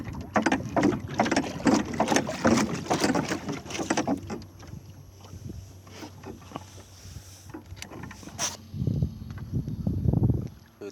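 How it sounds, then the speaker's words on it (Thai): A boat driven by a person standing upright at the helm, fitted with side support boxes, chugs steadily on open water with a low engine hum and splashing, close to the microphone, with no talking. "เป็นคลิปทดสอบการยืนขับเรือนะครับที่ใส่กล่องประคองข้างเข้าไปแล้ว"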